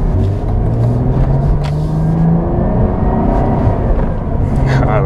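A 2022 Cadillac CT4-V Blackwing with a six-speed manual pulls hard in second gear, its engine rumbling loud and close, rising in pitch under the acceleration while people talk over it.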